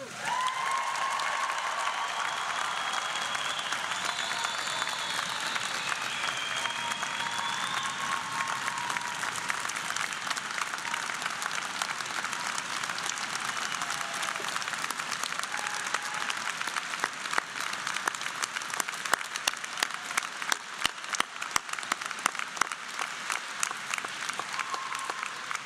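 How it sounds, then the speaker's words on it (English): University convocation audience breaks into sustained applause, a dense, steady roar of clapping from a large crowd with a few sharper claps standing out, lasting well over twenty seconds. "I said there would be a moment for truly thunderous applause."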